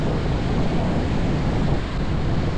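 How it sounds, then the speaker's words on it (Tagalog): Steady roar of surf and crashing waves at high tide along Ecoland Coastal Road, constant and loud, mixed with heavy wind noise buffeting the microphone. "Ayan o, ang lalaki ng mga alon."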